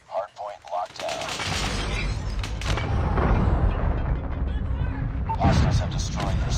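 Automated sentry turret in a video game opening up in a sustained, dense burst of gunfire that runs for several seconds after a few brief opening sounds, loud and continuous with other battle noise layered in.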